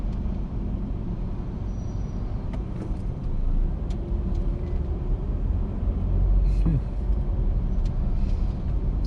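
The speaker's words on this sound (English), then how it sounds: "the big bus is going to take a left here too" A large bus drives close by on a Macau road, heard as a steady low engine rumble under general traffic noise, with a brief hiss like an air brake partway through.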